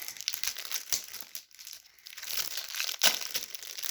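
Football trading card packets being torn open, crisp crinkling and tearing of foil wrappers in quick bursts, close and fairly quiet, with a short pause midway before more rustling.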